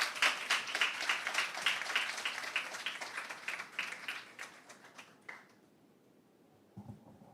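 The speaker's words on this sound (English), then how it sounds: "Coach Mitchell, let's give Coach a round of applause." A burst of applause from a crowd at a school graduation ceremony, steady clapping that fades out after about five seconds, followed by a faint thump.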